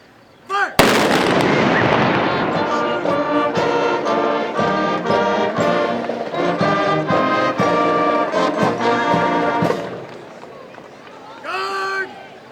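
A feu de joie rifle volley at a sunset military ceremony: one loud opening blast, then a rapid ripple of many shots running along the line for several seconds, followed by a shouted command.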